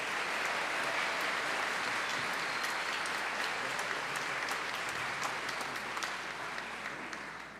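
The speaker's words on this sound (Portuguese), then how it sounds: "Uma salva de palmas" A church congregation at an 11 a.m. Sunday celebration applauds in a steady, dense wash of clapping that holds loud and even throughout, then begins to taper off near the end, with no voices over it.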